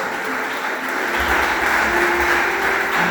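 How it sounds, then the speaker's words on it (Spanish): A church congregation claps for the King of Kings, a loud, continuous wash of applause that swells slightly midway and holds steady to the end, with a faint voice mixed in. "Denle palmas al Rey de Reyes y Señor de Señores."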